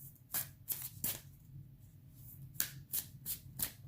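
A deck of cards being shuffled: several quick, crisp riffling bursts separated by short pauses, close and fairly quiet, over a low background hum.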